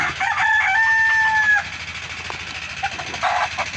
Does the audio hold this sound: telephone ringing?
no